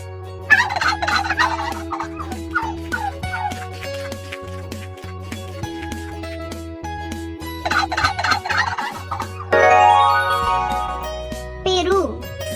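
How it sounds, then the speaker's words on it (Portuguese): Turkey gobbles ring out several times in loud, rapid, warbling bursts over a bouncy backing tune with a steady bass line. "Peru."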